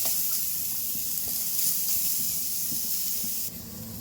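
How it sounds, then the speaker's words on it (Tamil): Fennel, cardamom, cloves, cinnamon and grated coconut frying in oil for a chicken gravy give a steady, close hiss and sizzle with faint crackles and occasional stirring clinks throughout. "நல்லா பொன்னிறமாக வரணுங்க, நல்லா வதக்கிக்கலாம்"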